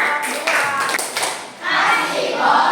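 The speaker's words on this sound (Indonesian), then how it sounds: "Tepuk tangan buat kelompok" A classroom of children applauds a student group, a steady wash of clapping that swells after a short dip midway, with voices mixed in.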